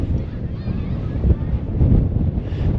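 Strong wind buffets the microphone on a clifftop overlooking Swanage Bay in Dorset, a continuous low, gusting rumble that swells and dips in uneven bursts.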